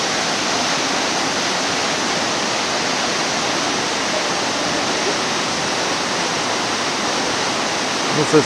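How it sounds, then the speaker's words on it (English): Thunder Creek Falls, a roadside waterfall on Route 6 between Haast and Wanaka in New Zealand, pours in a steady, dense broadband roar that stays constant and close throughout, with nothing else standing out. "This is Thunder Creek Falls on the road from Haast to Wanaka, Route 6"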